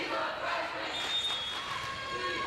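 A steady roar from the crowd at a girls' varsity high school volleyball match between Palatine and Fremd fills a gym after a play, with a commentator talking over it.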